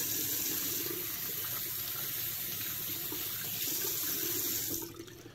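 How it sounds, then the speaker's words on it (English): A bathroom sink tap runs steadily during a shave, a close, constant rushing of water that is cut off abruptly just before the end, leaving a quiet room. "The water's running just so I can rinse my hands off."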